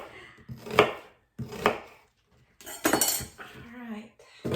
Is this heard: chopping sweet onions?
yes